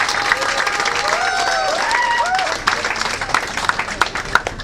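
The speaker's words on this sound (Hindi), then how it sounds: "सबके लिए जोरदार ताली दीजिए, पूरी टीम जो है।" An audience at a business event applauds the team with steady, broad clapping, mixed with voices and some cheering, tapering into scattered claps toward the end.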